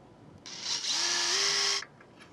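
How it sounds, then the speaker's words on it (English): A power drill whirs for about a second and a half while drilling out holes in a boat's cockpit sole, its pitch climbing as it spins up, then stops abruptly; quiet before and after. "I'm just gonna drill out another one of these holes here."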